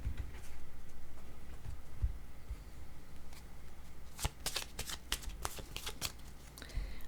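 Oracle cards are shuffled by hand in a steady stream of soft papery riffles and slaps, getting brisker and crisper toward the end, with no voices.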